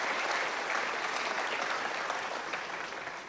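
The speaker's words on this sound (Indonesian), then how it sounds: "Tepuk tangan dulu." A studio audience on an Indonesian television talk show claps steadily, a dense, even roll of applause throughout with no speech.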